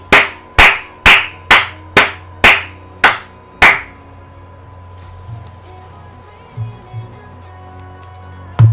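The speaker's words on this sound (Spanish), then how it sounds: "Un aplauso a West Bromwich Albion." Eight sharp, evenly spaced hand claps ring out close by, then stop, leaving a quiet room hum with a few faint knocks.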